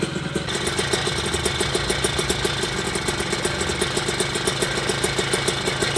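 A Puch Maxi moped with a 70cc kit engine idles steadily up close, a loud, even two-stroke putter with a fast regular pulse that holds unchanged throughout.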